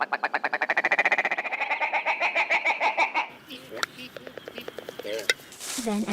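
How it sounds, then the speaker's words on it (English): Montezuma oropendola call from South America used in a music production, with a rapid series of rising gurgling pulses followed by liquid, bubbly notes and sharp clicks, loud and close. "this bird call is from the species Montezuma oripendula from South America"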